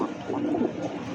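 Domestic pigeons, including a newly acquired black Bombay pigeon kept for sale, coo softly and steadily at close range, with no talking.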